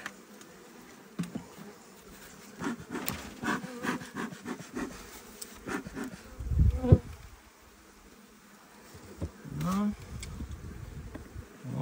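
Honeybees buzz steadily around an open hive during a spring inspection, a close, continuous hum with wooden scraping and frames being handled, while a person talks intermittently over it.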